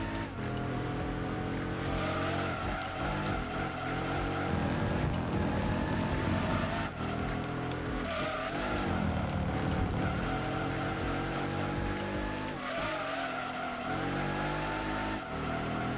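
An Aston Martin DB6 driven in the Gran Turismo 2 racing game, a steady engine drone that rises and falls in pitch through gear changes, continuous and fairly loud with no talking.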